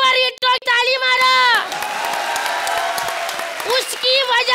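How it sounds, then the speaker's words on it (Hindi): A studio audience at a comedy show breaks into loud, sustained applause with some cheering, rising over the tail of a spoken line and carrying on steadily for several seconds. "इसकी एल्बम सुपर डुपर हिट को ताली मारो।"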